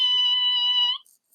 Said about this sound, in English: And then here is a high-pitched noise.